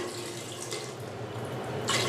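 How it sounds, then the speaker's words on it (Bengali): Water poured from a mug into a pressure cooker pot holding elephant foot yam for boiling, a steady close splashing stream with a brighter gush at the end. "দিয়ে দিব পরিমাণ মতো পানি"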